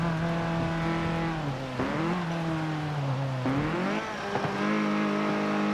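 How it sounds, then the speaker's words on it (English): Ford Focus RS racing in Forza Motorsport 7, its engine note dropping in pitch as it brakes hard, then climbing again with repeated downshift dips, loud and close throughout. "Get ready for heavy braking."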